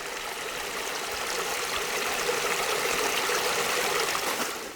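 A small waterfall running low with little water, giving a steady soft splashing trickle, constant and fairly close, with no voices.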